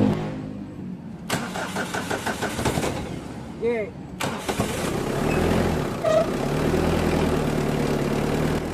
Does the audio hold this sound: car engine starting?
yes